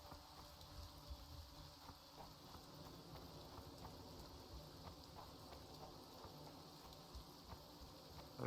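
Soft, steady rainfall in The Witcher 2 makes a faint, continuous patter with a quiet hiss throughout, without any talk, ending in a brief louder bump.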